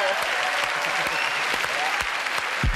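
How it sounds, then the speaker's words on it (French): A TV studio audience claps steadily throughout, a dense, even burst of applause with a few louder individual claps standing out close by. "il y a des applaudissements"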